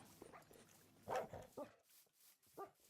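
Pet dogs in a video game let out a few short, faint barks and yips, spaced irregularly over a quiet background.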